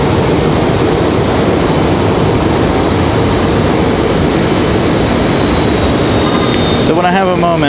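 Jet airliner engines at an airport spool up in a steady, loud broadband roar with a rising whine, while a commentator talks over it.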